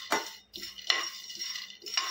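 Roasted chickpeas being mixed by hand into a makhana and milk powder: a handful of sharp, close metallic clinks and scrapes of a spoon against a pan, spaced unevenly with quieter rustling between them.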